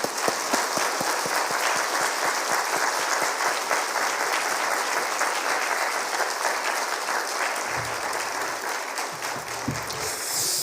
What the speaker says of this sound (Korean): 우리 뜨거운 박수로 맞이하겠습니다.